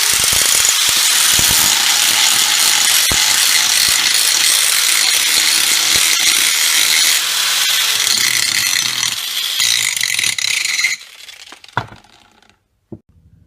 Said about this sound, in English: you want to make sure you get your angle grinder plugged in.